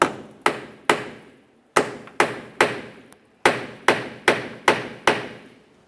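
A twist socket being hammered onto a stripped 10mm bolt on a 2004-2006 Scion xB during radiator cooling fan removal: about ten sharp, loud metallic hammer strikes at an uneven, steady pace with brief ringing decays.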